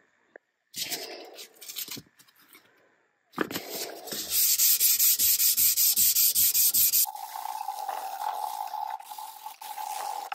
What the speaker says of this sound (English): we'll run over the whole thing with 220 and we should be good to go for wet sanding